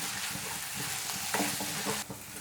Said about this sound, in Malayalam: സവാള ഒന്നും കൂടി ഒന്ന് വഴന്ന് വരട്ടെ.